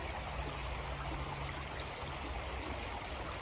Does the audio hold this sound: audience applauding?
no